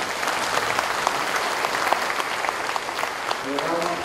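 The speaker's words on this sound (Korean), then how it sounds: "큰 박수로 환영해 주시기 바랍니다" Applause from a seated audience at a patriotic forum in the Olympic Parktel welcoming a former Prime Minister, a steady dense clatter of many hands throughout, with a voice starting to speak at the end.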